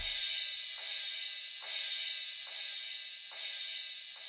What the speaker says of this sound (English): Now there's a crash that comes in every 4 bars